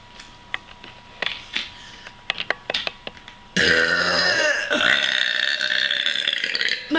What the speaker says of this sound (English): here comes the burping contest.